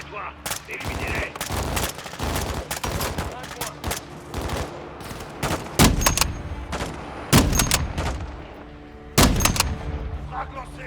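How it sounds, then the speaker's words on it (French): Suppressive gunfire rattles through a Call of Duty Modern Warfare 2 firefight, with loud bursts and rapid automatic volleys in irregular clusters, single sharp shots between them, and faint background noise of battle. "Envoie des tirs de suppression."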